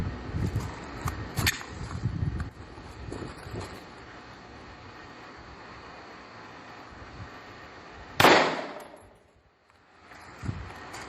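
A single sharp, loud gunshot cracks out partway through, followed by a quick fading echo, over steady outdoor background noise with a few softer knocks earlier.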